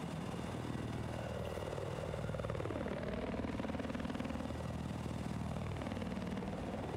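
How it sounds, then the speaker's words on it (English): A helicopter in the Battlefield 4 video game roars steadily throughout at close range, its loud rotor and engine drone rising and falling in pitch as it manoeuvres, with no talk over it. "Chopper's up."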